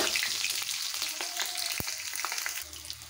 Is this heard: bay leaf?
yes